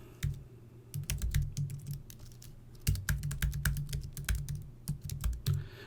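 Login details being typed on a computer keyboard, a close run of quick key clicks in several bursts separated by short pauses.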